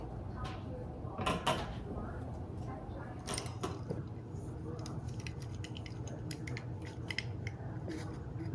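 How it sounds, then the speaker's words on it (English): Scissors or pruners cut a river birch stick into sections, giving a few sharp snips and crunches over a low, steady background rumble, with quiet handling noise between the cuts. "Now I'm going to take this stick and cut it in sections"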